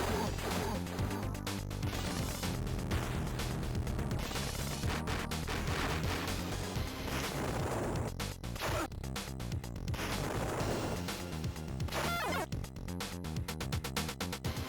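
Explosions from the Amiga video game Rogue Trooper crash and burst repeatedly through a dense, loud stretch of game sound, one hit after another with no talk.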